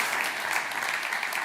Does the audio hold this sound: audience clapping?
yes